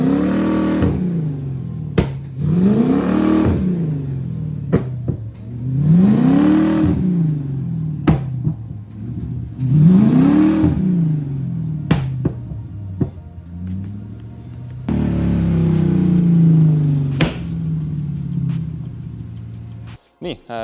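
A Nissan Silvia Pro-class race car on a dyno, its engine loud and close as it revs up and back down in four or five repeated sweeps, with a rougher sustained run near the end.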